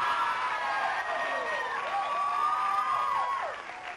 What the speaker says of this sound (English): Kind of a cheap way to get a round of applause